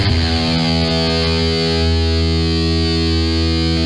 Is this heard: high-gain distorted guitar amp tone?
yes